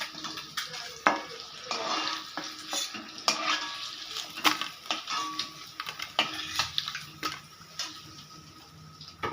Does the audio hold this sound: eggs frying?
yes